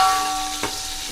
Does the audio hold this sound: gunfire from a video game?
no